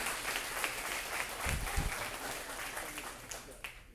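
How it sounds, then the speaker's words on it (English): Warm applause from a crowd at a city council candidate Q&A in a brewery in Anna, Texas, honoring police officers, continuous and moderately loud throughout. "We give them a round of applause"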